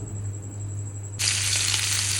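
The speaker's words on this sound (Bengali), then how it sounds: "আলু অলমোস্ট ভাজা হয়ে গেছে।" Potatoes frying in a pan: a low hum at first, then a bright, loud sizzle bursts in partway through and carries on steadily to the end.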